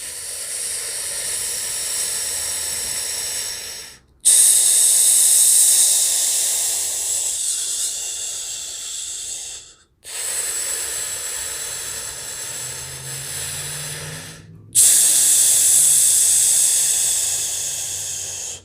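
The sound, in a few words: deep breathing during an abdominal breathing exercise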